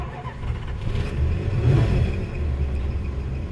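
A 1987 Dodge Diplomat engine starting and revving, a close, loud, low rumbling crank that catches and swells into a rough rev before settling into a steady idle.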